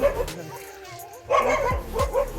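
Dogs barking in a village, a few sharp barks and yips at moderate distance around mid-clip, with a whimpering tone over low background noise and faint voices.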